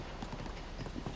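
Horse hooves in a video game clip-clop in a quick, steady walking rhythm, close and fairly loud over a rough background wash.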